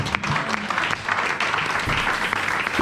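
A church congregation applauds, a loud crowd of overlapping hand claps running continuously throughout with slight swells in intensity.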